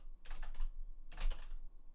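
Quick bursts of typing on a computer keyboard come in two close, clattering flurries separated by a short pause, with another burst starting at the end, and no voices.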